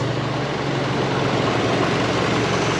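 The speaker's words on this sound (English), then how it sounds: "The compressor kicks on, engine idle runs up, it starts to get a little bit rough" A turbocharged Mitsubishi Lancer Evolution idles with a steady, close engine drone and a low humming tone, unbroken for the whole stretch.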